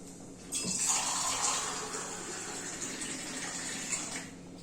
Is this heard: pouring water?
yes